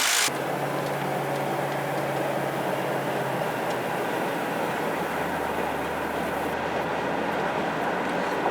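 Car on a test drive after a transmission and power steering pump install, heard from inside as a steady broadband road and engine rumble that holds constant throughout, with no talking.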